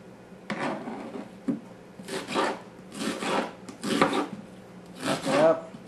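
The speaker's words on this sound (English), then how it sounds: "Chop it up." A knife chops an onion on a cutting board in steady, rasping strokes about once a second, close and fairly loud, with a faint background hum.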